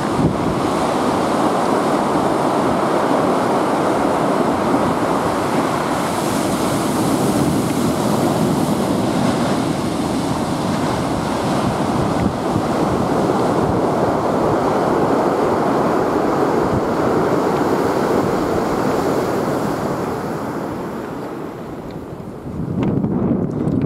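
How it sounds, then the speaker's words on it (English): Big ocean waves pound the Ring of Kerry coast in a steady, loud roar of surf mixed with wind buffeting the microphone, continuous for the whole stretch and easing slightly near the end. "Big waves here."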